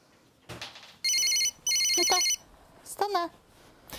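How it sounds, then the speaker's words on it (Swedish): A MEMOplanner planning device gives its reminder signal, two bursts of electronic ringing, the first short and the second longer, with brief speech before and after. "When a planned event is due, MEMOplanner sends Yvonne a signal so that she can clearly see what's to happen"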